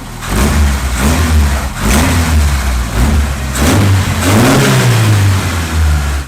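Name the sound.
Seven16 car engine revving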